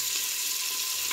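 Capsicum and cauliflower sizzle steadily in a hot pan for pav bhaji, a continuous close frying hiss with faint stirring scrapes, no voices.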